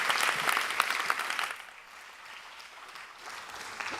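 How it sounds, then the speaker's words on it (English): An audience at a startup showcase applauds a speaker coming onstage, a dense burst of clapping that fades after about a second and a half, with faint scattered claps and murmurs afterward. "Big round of applause for Hussein from Kinetics."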